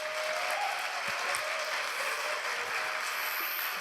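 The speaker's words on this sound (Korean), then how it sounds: "전도사님 나오실 때 큰 박수로 환영하도록 하겠습니다." A church youth congregation claps warmly to welcome a preacher, steady even applause at moderate volume, uninterrupted by talk.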